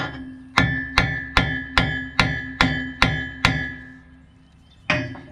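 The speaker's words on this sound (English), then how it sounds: "Maybe I can take a hammer and tap on that end there" A hammer strikes a metal end on a Bobcat or Skyjack machine eight times in an even rhythm, then once more after a pause, each blow a sharp ringing clank, close and loud.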